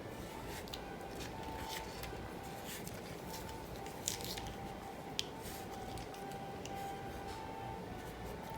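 Plaster squeezed from a bag into a snowman mould for an art kit, giving a soft, continuous squishing texture with a couple of faint clicks, close and quiet.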